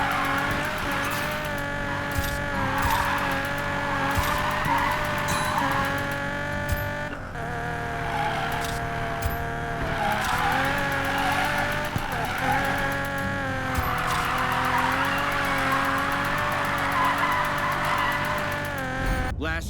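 Continuous engine roar with shifting pitch from the racing video game Need for Speed Payback, tires squealing and skidding at moments, loud and steady throughout with a constant busy mix.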